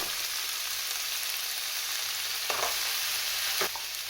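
Courgettes and beans frying in a pan give a steady, close hiss of sizzling, broken late on by a couple of brief clatters as the vegetables are stirred.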